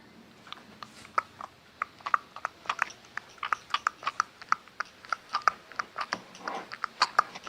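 A mimicry performer imitates a matchbox being shaken with the mouth, producing rapid, irregular dry clicks and rattles in quick bursts, close and fairly quiet, without talking.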